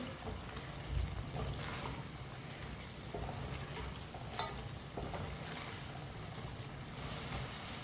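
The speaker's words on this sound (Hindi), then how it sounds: "अब इसे 2 मिनट के लिए ऐसे ही चम्मच चलाते हुए पका लेंगे।" Chicken with fried okra cooking in a pan for a couple of minutes while a spoon keeps stirring, giving a steady broadband sizzle with scattered scraping clicks, close and continuous, no talking.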